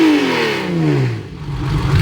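Nissan Skyline GTR engine revving at high pitch, a loud rising-and-falling whine with strong harmonics sweeping downward, heard close and alone without talk.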